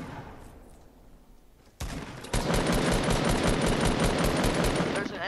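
Rapid automatic gunfire in a Fortnite match, starting abruptly after a quiet stretch and then continuing as dense, loud, sustained bursts to the end.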